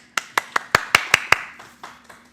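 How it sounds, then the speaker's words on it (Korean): A handful of sharp hand claps in a quick, even rhythm, fading into a few softer scattered claps. "박수."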